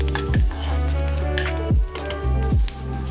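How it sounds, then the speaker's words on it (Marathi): Cinnamon, cardamom, cumin and garlic frying in a pan for palak paneer, a steady close sizzle with a few louder stirring scrapes and bursts spaced about a second apart, no voices. "छान फ्राय करून घेऊया।"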